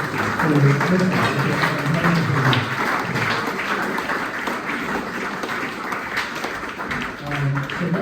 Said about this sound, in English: So please, give him a applause